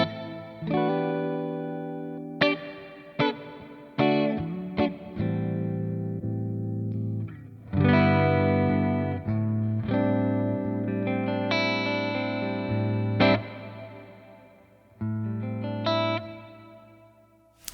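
Electric guitar through a clean Kemper Profiler profile, a sequence of strummed chords and picked notes with crisp attacks and lingering sustain, some short stabs and longer ringing chords, played solo without any voices.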